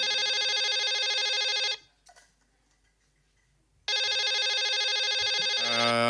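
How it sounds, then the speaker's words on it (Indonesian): A telephone rings loudly in long, bright electronic bursts, stops for about two seconds, then starts ringing again during an analogue live session, with no talk over it. "Ada telepon lagi, biarin dia yang nunggu kan."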